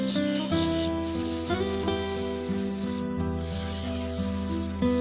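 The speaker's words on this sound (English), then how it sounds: "then I sanded from 80 to 3000 grit" A cherry wood turning spins on a lathe while being sanded through grits from 80 to 3000, giving a steady tonal hum with a continuous rubbing, hissing texture close by.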